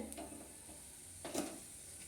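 Cumin seeds sizzle in hot oil as tempering for a katla fish malai curry, a faint steady hiss with a brief brighter crackle partway through and no voices.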